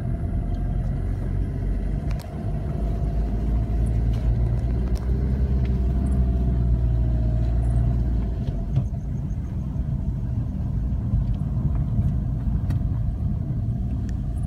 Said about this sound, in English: Now we are taking a car up the rocks.